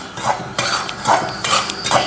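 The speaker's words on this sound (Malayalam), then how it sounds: "ചീനച്ചട്ടി ചൂടായിട്ടുണ്ട് അതിലേക്ക് ഇട്ടു നമുക്കത് ഇളക്കാം" A spoon scrapes and stirs semolina (rava) roasting in a hot kadai, in about four rhythmic close strokes with short pauses between them and no voices.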